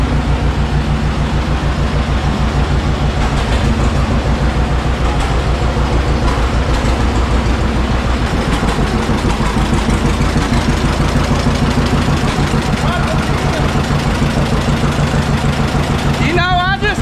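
A tractor backs in to hook up a wheat grain buggy during harvest. Its engine gives a loud, steady, close diesel rumble for the whole stretch, with mechanical clatter layered over it.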